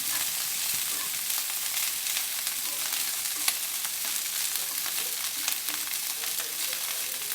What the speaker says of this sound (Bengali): মা ভাতটা ভেজে নিচ্ছেন বেগুনের সাথে নুন হলুদ দিয়ে